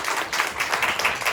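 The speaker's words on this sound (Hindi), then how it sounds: "जोरदार तालियां बजा दो यीशु मसीह के लिए।" Congregation at a church service clapping loudly together, a dense, steady wash of many hands with rhythmic pulses running through the whole short stretch, with no voices over it.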